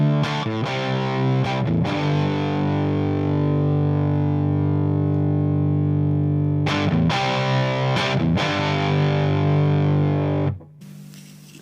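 Distorted electric guitar played through a 6601 amp with its EQ turned up high, a thick, loud, sustained chugging tone with a few short pauses between chords before it cuts off near the end.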